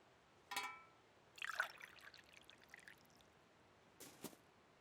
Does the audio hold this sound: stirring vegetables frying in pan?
no